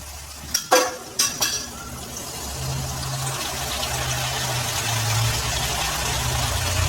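Sardines dropped into a pan of sautéed chili, with a couple of clattering thuds at the start followed by a steady, loud sizzle of frying that continues throughout.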